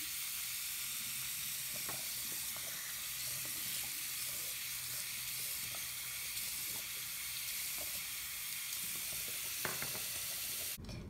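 Running tap water rinsing a homemade bar of soap containing tetrasodium EDTA, a steady hissing spray at low level with faint clinks and handling sounds, no talking.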